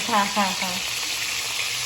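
Brief, crackling sizzle of food frying in hot oil for the Ilocano dish denengdeng, with a short vocal sound over the start before the frying continues alone.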